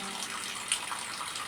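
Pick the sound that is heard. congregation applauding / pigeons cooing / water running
water running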